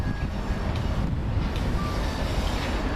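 A train passing at Grand Central, a steady, dense rumble of wheels and rolling stock that holds at an even level throughout, with faint squealing tones riding on top.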